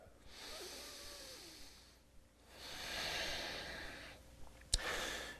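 A person takes a deep breath during a yoga pose, with a slow audible inhale followed by a long, breathy exhale close to the mic, and a brief sharp click near the end.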